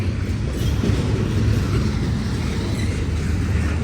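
A BNSF ES44AC diesel locomotive rolls past close by, a loud, steady low rumble with wheel and rail noise and no voices.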